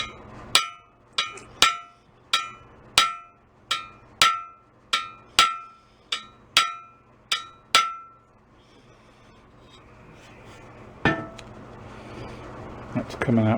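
A small ball peen hammer taps on metal parts of a 1962/3 Ludwig Super Sensitive snare drum during restoration, about fifteen sharp ringing strikes at a steady pace, then quieter handling noises and a couple of louder knocks near the end.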